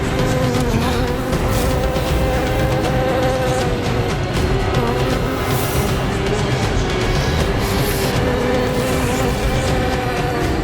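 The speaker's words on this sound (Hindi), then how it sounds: "ये भिनभिनाहट जैसे असंख्य कीट एक साथ ध्वनि उत्पन्न कर रहे हैं" Dense, continuous buzzing like countless insects swarming together, a steady loud drone filling the scene without pause, set in a mythological drama.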